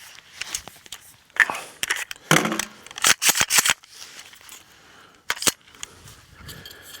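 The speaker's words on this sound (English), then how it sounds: "I'm going to go ahead and clear my rifle." An AR-15 rifle being cleared, with a rapid series of sharp metallic clicks and clacks from the action, a rattling slide in the middle and a final click, close and loud against a quiet room.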